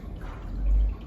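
An air stone bubbling in turtle tank water makes a steady, close wash of fizzing bubble noise with a low rumble that swells briefly.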